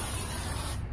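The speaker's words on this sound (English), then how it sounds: "sprayed some air freshener in here because I like it to be nice and smelly and smelling good" An aerosol air freshener gives one continuous close hiss lasting nearly a second before stopping, loud and alone.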